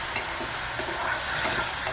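Onion fries in a pan with a little salt, a steady close sizzle over which a spatula scrapes and stirs in a few soft knocks, with no voices.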